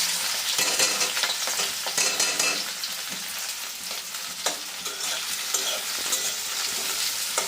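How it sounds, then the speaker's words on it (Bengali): Chopped onions sizzle and crackle in hot oil on a gas stove, a steady loud frying hiss with occasional stirring scrapes throughout, no voices. "এবার পেঁয়াজ এইগুলো যেগুলো কাটা আছে এগুলো দিয়ে দেবো।"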